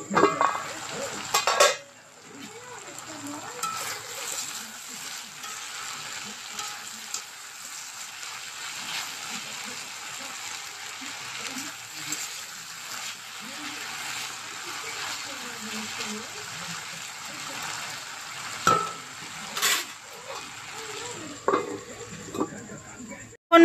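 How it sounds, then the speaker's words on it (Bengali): Potatoes fry in a pan with a faint, steady sizzling hiss throughout, broken by a few light clinks of utensils. "তো সেই জন্য আলু ভাজছি।"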